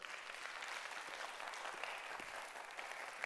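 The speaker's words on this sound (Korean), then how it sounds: "박수 부탁드려요" Steady, even applause from an indoor audience at a Korean stage show, sustained and fairly distant, filling the whole stretch with dense clapping and no voices on top.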